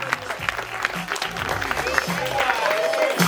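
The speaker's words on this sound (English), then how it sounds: "Please have a huge round of applause for the winning team." An audience applauds the winning junior team at the finals of an international debate competition, with a steady wash of clapping and a voice speaking over it throughout.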